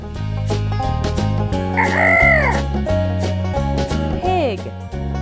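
In a children's farm-animal stacking game, a cartoon chicken clucks and a rooster gives one loud, clear crow in the middle, over bouncy background music.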